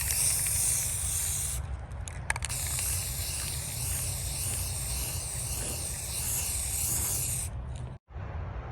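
Steady hissing spray of sealant being applied in a long continuous coat, close and fairly loud, with a brief pause near the end.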